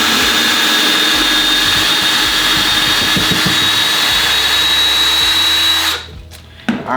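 A Ryobi entry-level cordless drill whines steadily at speed as the bit is backed out of a freshly drilled hole, loud and close, then cuts off abruptly near the end.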